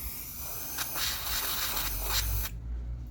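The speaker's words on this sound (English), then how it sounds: "And spray it on top of the rag so it picks up all the mess." Aerosol can hissing in a steady burst of about two and a half seconds onto a rag while cleaning a dirty lawn mower wheel, fairly close, ending abruptly with a low hum left behind.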